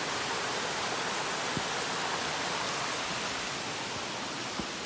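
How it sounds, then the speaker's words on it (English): Steady rain falls outdoors on a wooded hiking trail along the Appalachian Trail, a dense, even hiss with a couple of brief faint knocks and no talking. "it is raining."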